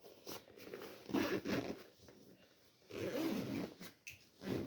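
A zipper on a plain black bag is pulled open in several short rasping bursts, close and fairly quiet, with soft handling rustles between the pulls.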